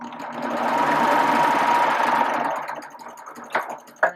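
A serger sewing machine runs steadily while stitching a circular hem, its busy motor whir carrying for about two seconds before slowing and stopping, followed by two sharp clicks as the knife is locked.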